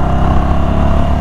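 Loud, close rumble of a 2022 Indian Chief Bobber Dark Horse's Thunderstroke 116 V-twin. A thick, steady idle runs throughout the short burst.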